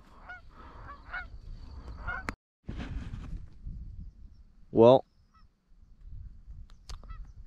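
Geese fly in over a cut corn field during a Minnesota goose hunt, with one loud, close honk standing out above faint scattered calls and quiet talk from hunters.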